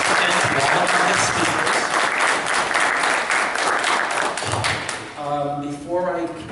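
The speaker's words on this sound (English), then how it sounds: "could we have one final round of applause for all of our winners?" An audience at the Inkwells 2016 awards ceremony applauds its winners, a loud, dense burst of clapping lasting about five seconds before it fades and a voice starts speaking.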